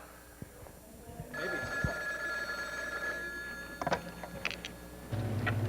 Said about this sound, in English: Here, Mr. Brock is telling to pick up the phone.